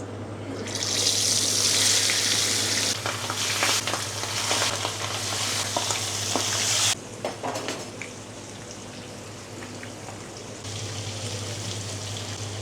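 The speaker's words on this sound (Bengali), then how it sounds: "আমি মাছটা ফ্রাই করার জন্য সরিষার তেল দিচ্ছি" Hilsa fish fries in hot mustard oil with a loud, hissing sizzle that cuts off abruptly partway through, leaving quieter crackles before a softer hiss resumes.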